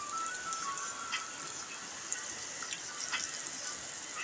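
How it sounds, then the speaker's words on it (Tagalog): Steady, dense hiss of heavy rain pouring down, a continuous wash of water with occasional louder drips or splashes. "Namumuti ang kalangitan sa ulan"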